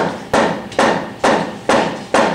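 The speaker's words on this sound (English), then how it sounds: "This is a hammer." A hammer striking repeatedly, five loud sharp blows at a steady rhythm of roughly one every half second, each hit close and ringing briefly before the next.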